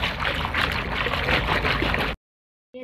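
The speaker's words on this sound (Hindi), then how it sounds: "चलो अब हम इन चीज़ों को धो लेंगे इस तरह से।" Water runs and splashes steadily as fridge parts are rinsed, a close continuous gush that cuts off near the end.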